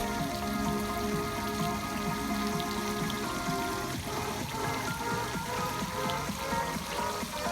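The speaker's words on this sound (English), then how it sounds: "let's get right into a sound test, a water test, and an underwater test." A JBL Charge 3 portable speaker plays music while being doused with water, so a dense, continuous splashing patter runs over the tune for several seconds.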